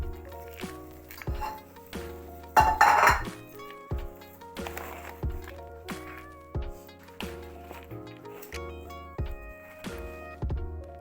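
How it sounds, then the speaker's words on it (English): Metal pans clink and clatter as someone searches for a small pan, with sharp ringing knocks at an irregular pace, fairly close and moderately quiet. "Find myself a small pan."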